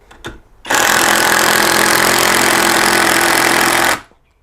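A cordless impact driver on a Makita battery hammers continuously for about three seconds, loud and close, driving a screw through steel before stopping abruptly.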